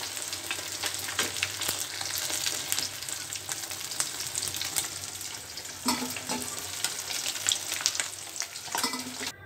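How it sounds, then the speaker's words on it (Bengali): Rui fish frying in hot oil, a steady loud sizzle with scraping and stirring clatter throughout, no talking. "মাছগুলো সুন্দরভাবে ভেজে নিন, দেখুন মাছগুলো আমি উল্টিয়ে দিয়েছি"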